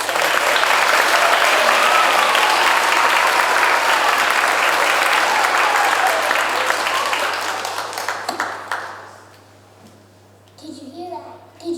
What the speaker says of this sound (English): Big clap for Oscar.